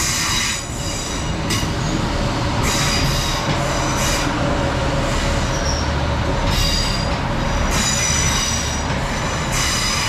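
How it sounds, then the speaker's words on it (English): Class 156 diesel unit 156481 arriving at Hartlepool station, heard close and loud with a continuous rumble, squealing wheels and rhythmic clicks from the rails as it runs in. "approaching now is our train, which is 156481"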